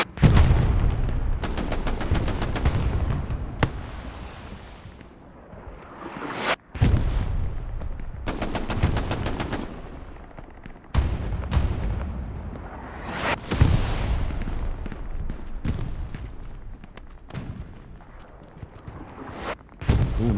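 Rapid bursts of video game gunfire crackle through a tense competitive squad match, dense volleys and machine-gun rattles broken by brief pauses, loud and close throughout with no voices over them.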